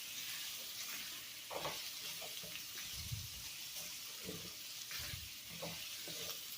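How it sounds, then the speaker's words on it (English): Vegetables for lentil soup are stirred in a hot pot, a steady close sizzle with scraping stirs and soft clunks recurring throughout, no voices. "Just move the vegetables around to make sure that the seasoning is evenly coated"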